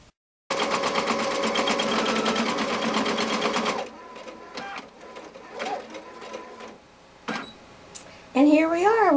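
An embroidery machine stitches a design on a waffle weave towel with a fast, steady mechanical whir and rattle for several seconds, then stops, followed by scattered clicks and handling noises and a voice at the end.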